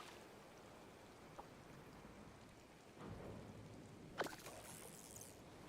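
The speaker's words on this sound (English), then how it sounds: "I know it's raining" Steady rain falls in the cozy life-sim game Disney Dreamlight Valley, a continuous soft patter throughout, with a low rumble swelling near the middle and a brief sharp crackle toward the end, like distant thunder.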